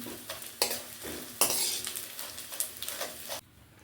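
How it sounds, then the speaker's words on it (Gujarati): Edible gum (gundar) sautés in ghee as a spoon stirs and scrapes the pan in bursts. Soft frying crackle runs underneath, and the sound drops away near the end. "ગુંદર લીધો છે એને પણ આપણે ઘીમાં આવી રીતના સાંતળી લઈશું।"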